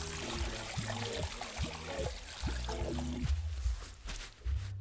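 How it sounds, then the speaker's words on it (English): Hands being washed under a steadily running tap before entering an active monitoring area, a continuous trickling, splashing flow of water with no voices. "First thing we need to do is to wash our hands."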